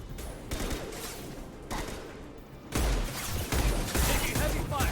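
Heavy gunfire in a combat video game, a dense continuous fusillade of shots that swells louder after a short lull, with a voice briefly heard amid the shooting.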